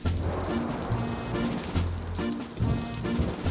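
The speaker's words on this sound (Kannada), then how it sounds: "ಅವ್ರಿಗೆ ಎಷ್ಟು ಜೋರ್ ಮಳೆ ಬರ್ತಿದೆ" Heavy rain pours in an animated cartoon scene, a steady hissing downpour that runs throughout beneath tonal cartoon sounds and effects.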